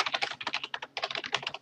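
Rapid, steady typing on a computer keyboard as an email address and password are entered, the keystrokes clicking close and crisp with a brief pause midway.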